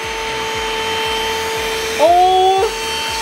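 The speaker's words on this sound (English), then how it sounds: "let's suck up some dog hair" Vacuum cleaner running steadily over a carpet covered in dog hair, a constant motor hum with a brief rising pitch shift as it pulls up debris; a person exclaims briefly over it.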